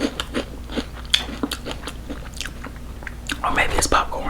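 Crunchy potato chips and snacks such as salt and vinegar, honey barbecue, dill pickle and Funyuns are bitten and chewed close to the microphone in an ASMR eating session, giving sharp crisp crunches in uneven bursts with quiet whispering between them.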